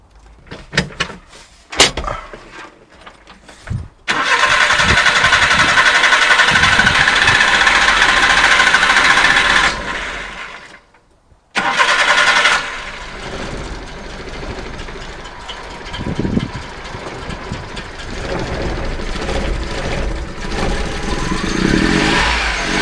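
A Suzuki Carry mini dump truck engine with a newly adjusted carburetor cranks, sputters and catches, running loud and rough near at hand, cutting out briefly before restarting and settling into an uneven idle.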